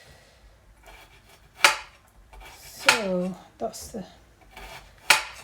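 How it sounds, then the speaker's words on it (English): Knife chopping vegetables on a glass cutting board for pakoras, giving a few sharp, close clicks spaced apart, with a person speaking briefly between them. "But because it's a glass board, it makes that clicking noise."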